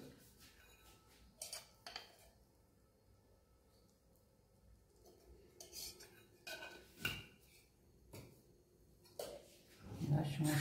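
A spice mixture of chilli powder and turmeric stirred with a spoon, quiet scattered scrapes and metallic clinks against the bowl at close range, with a voice speaking softly in the background.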